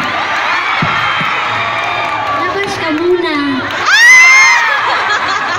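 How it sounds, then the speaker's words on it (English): A large crowd at a live show in Dubai cheers and whoops over a steady roar, with a few shrill shouts and a louder swell of cheering near the end, while a voice speaks over it. "Everybody, let's make some energy and give a round of applause for Mai Mai Entrada"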